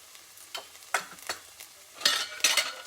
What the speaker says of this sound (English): You want to mix that through. And you want to sweat these onions off.